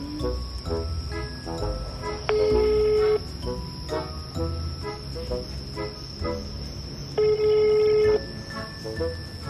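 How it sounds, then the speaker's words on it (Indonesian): A phone call is placed again to a number that keeps going unanswered: clear dialing tones, then two long ringback tones over a low background hum, with no talking. "Oke, kita telepon sekali lagi."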